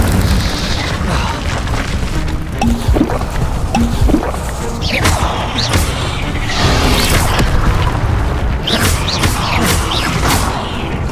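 Fiery Incendio spell blasts cast in the video game Hogwarts Legacy, a string of loud booming bursts and crackling impacts over dense battle noise, several sharp hits arriving in quick succession near the end.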